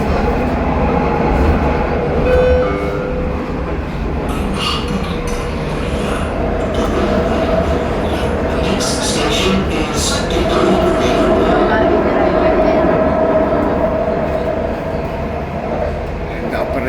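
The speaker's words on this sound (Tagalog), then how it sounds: "Matakbo na po ang train. Via train." A train pulls away at Marina Mall with a loud, steady rumble, rolling wheel noise and brief squeals, while people talk over it throughout.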